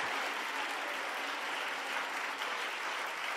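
Church congregation clapping their hands during a sermon, a dense, steady wash of applause filling the room without a break from start to finish.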